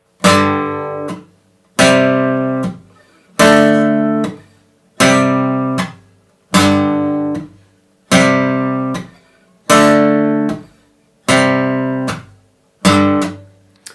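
Nine distorted electric guitar power chords from the verse of a song, each struck and allowed to ring about a second before the next, in an even, deliberate rhythm.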